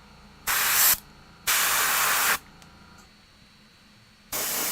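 Airbrush spraying paint while painting Warhammer 40k Dark Eldar Hellions miniatures: three steady bursts of close, loud hissing air, each a second or so long, separated by quiet gaps.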